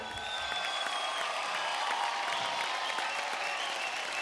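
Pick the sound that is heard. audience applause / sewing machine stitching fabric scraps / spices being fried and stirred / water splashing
audience applause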